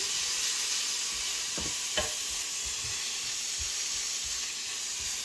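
Garlic and onion sauteing in a pan give off a steady, bright sizzle throughout. A couple of soft stirring knocks come early, and no one speaks.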